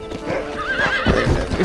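A horse in Red Dead Redemption gives a loud, close whinny with a wavering pitch, mixed with hoof clip-clops and thumps.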